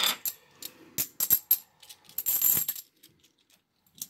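Coins dropped and jingled to test their ring, a cluster of bright clinks and metallic rattles over about three seconds that settle into quiet, with one last faint clink at the end, close and without talking.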